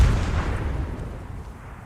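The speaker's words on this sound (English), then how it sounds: "the mortars are coming in." Incoming mortar shells detonate in the military video game Arma during an artillery strike on a compound, a deep rumbling blast that rolls out and fades over under two seconds, with no voices.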